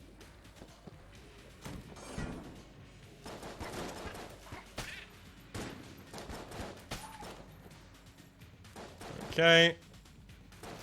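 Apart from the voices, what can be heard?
Smiley's gun shots in Enter the Gungeon video game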